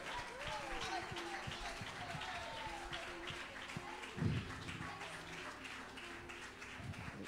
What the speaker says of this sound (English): Would you clap your hands to the Lord?